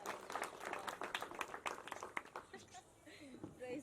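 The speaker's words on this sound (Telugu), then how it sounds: "అందరూ క్లాప్స్ కొడదామండి" Church congregation applauding at a second-anniversary celebration service, a dense wash of many hands clapping steadily for several seconds before thinning out, heard close and fairly loud in a reverberant hall.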